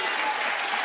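Audience applause fills a TV talk-show studio, a dense, even wash of many hands clapping at once, steady and moderately loud for under a second.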